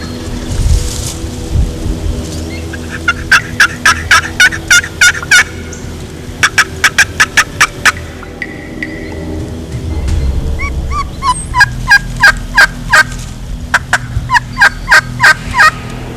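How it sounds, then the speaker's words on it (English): A wild turkey gobbles loudly in repeated rapid bursts outdoors during a hunt, several separate gobbling sequences spaced across the scene, with a faint dog bark in the background. "you'll get a turkey that'll gobble intermittently"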